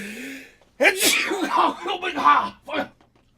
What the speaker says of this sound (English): Oh, fuck, I gotta sneeze.